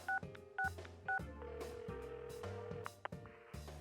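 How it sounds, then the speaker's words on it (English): A phone number dialed in the video game Persona 4 Arena Ultimax, a quick run of crisp keypad tones, a few spaced beeps followed by a denser cluster, clear and close with no voices. "I dial Yosuke-kun's number."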